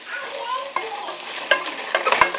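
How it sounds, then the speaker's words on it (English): Ground chicken sizzles in oil in a pan while being stirred for white chicken chili, a steady close frying hiss broken by scraping utensil strokes and a few sharper clacks against the pan, with no speech. "you're cooking it just like you would cook ground hamburger, just kind of trying to get it to cook up a little bit"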